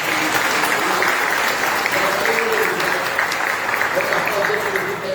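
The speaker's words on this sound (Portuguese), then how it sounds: "Então eu queria que você aplaudisse o Senhor pela vida dele." A church congregation claps steadily and densely throughout, giving thanks to the Lord for a man's life, with a faint voice underneath the sustained applause.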